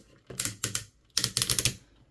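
Plastic joints on a Transformers Legacy Evolution Armada Universe Optimus Prime figure ratchet as they move, making two quick bursts of sharp, close clicks. The first burst has a few clicks and the second has about six, with no talking.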